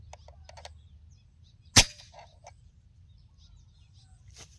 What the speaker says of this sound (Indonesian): Sekarang tembakan kedua